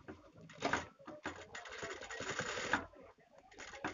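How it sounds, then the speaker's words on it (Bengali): A sewing machine stitches folded fabric pieces for a neckline design, a faint, uneven mechanical whirring and clatter with brief pauses, heard close but quiet. "এটা মেশিনে এভাবে সেলাই দিয়ে নেবেন যাতে এটা ছুটে না যায়"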